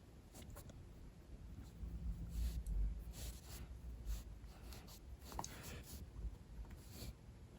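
A Uni-ball Signo white gel pen adds highlights to a marker drawing, making soft scratchy strokes on paper. The strokes come in short irregular bursts, quiet and close, over a low background hum.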